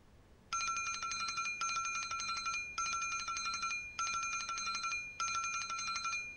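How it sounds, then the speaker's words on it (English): Ringing bell with a bright, metallic trill, sounding in five evenly spaced bursts of about a second each with brief gaps between them, loud and close. "The boy can hear the ringing bell using his ears."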